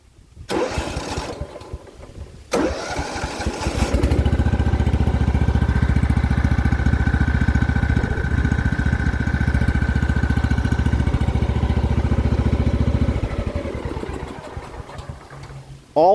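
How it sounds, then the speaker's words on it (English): Kubota T1670 riding mower, left outside for years, cranks briefly and fires up, then settles into a loud, steady idle close by before the note drops away near the end, with no speech. "It should actually fire right up."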